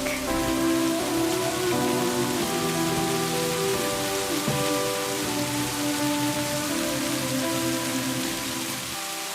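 Steady rain patters across a surface without pause, a dense even hiss with soft droplet texture and a faint underlying hum.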